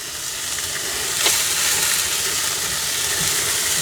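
Bacon and thick mushrooms sizzle loudly and steadily in a pan at a campsite, a continuous close hiss with a brief crackle partway through and no talking.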